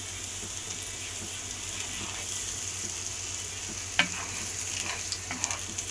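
Butter sizzling lightly on a hot tawa, a steady soft frying hiss that holds evenly throughout, with a few faint clicks and taps near the end.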